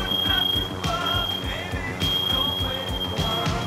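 Smoke alarm sounding in a house kitchen, a steady high-pitched beep tone running throughout, with thumps and clatter beneath it and voices nearby.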